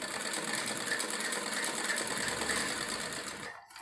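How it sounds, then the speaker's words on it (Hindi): A sewing machine runs steadily, stitching the round hem of a salwar leg, a continuous close whirring that stops abruptly at the end. "और अब दूसरी साइड पे हम सिलाई करनी है मोरी की राउंड शेप में"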